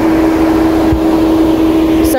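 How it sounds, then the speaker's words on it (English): A loud car engine runs at a campsite after a long day's driving, cooling down with a constant close droning hum that holds steady throughout. "Sorry for the loud engine."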